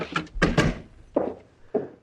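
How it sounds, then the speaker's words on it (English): A door is handled in an old-time radio drama: a cluster of knocks or thuds at first, then two more separate solid thumps spaced apart, fairly close and with no talk over them. "Who's at the door, Sing Lu?"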